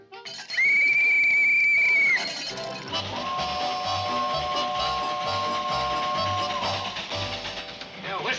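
A train whistle blows loud and steady for about a second and a half, then a lower whistle tone holds for several seconds over a rhythmic clatter of wheels on the rails, at a railroad crossing called Gerber's Crossing.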